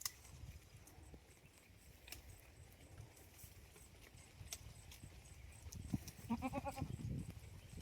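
Goats being led out to graze give a few faint bleats near the end amid a steady outdoor rumble and scattered hoof and footstep sounds, distant and low in level.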